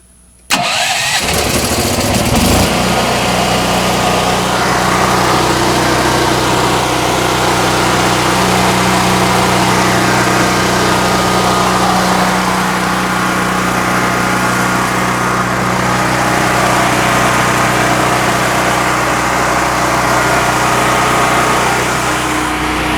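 A small gasoline generator in a shed coughs to life after a quick pull and settles into a loud, steady close-up drone that runs on unbroken.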